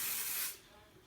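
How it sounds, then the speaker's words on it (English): A short burst of firm-hold hairspray sprayed onto hair, a loud close hiss for about half a second that then cuts off to quiet room tone. "So we'll go ahead and spray that"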